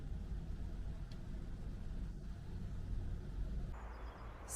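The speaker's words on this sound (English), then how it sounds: "Bit of traffic noise, but you've got the main road round the back." Faint, distant traffic rumble from a main road carries steadily to the Horseshoe Falls car park near Llangollen in Wales, low and continuous with no voices.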